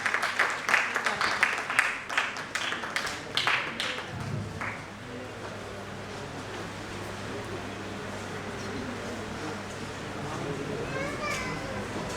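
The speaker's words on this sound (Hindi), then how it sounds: "एक बार उनके लिए भी तालियों से स्वागत किया जाए" A crowd at a political event claps in a lively burst for several seconds, welcoming a BJP minister, then the applause fades into a quieter murmur of voices and background chatter.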